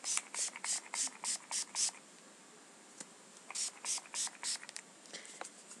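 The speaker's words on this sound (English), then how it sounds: "So I spray a lot on it." A bottle of hair detangling spray is pumped in two quick runs of short, hissing spritzes, about seven in each, close and fairly quiet.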